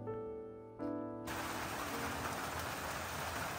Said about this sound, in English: It was literally raining outside,